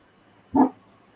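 A single short dog bark rings out once, fairly close, against an otherwise quiet room.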